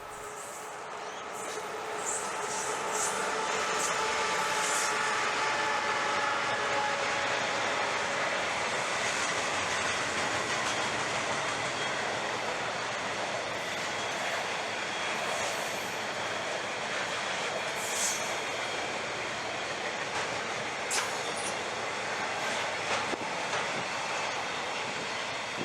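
A Queensland train led by locomotive PN006 passes with a steady broad rumble and rolling rail noise lasting throughout, with faint clicks from the wheels, moderately near and unbroken by talk.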